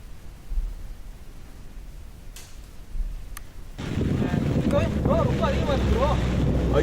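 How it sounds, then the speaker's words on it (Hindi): Strong wind buffets the microphone at the seashore in Chengalpattu, Tamil Nadu during Cyclone Michaung, a steady roar with gusts that grows louder and denser partway through. "तेज हवाएं किस तरह से समंदर में नजर आ रही है"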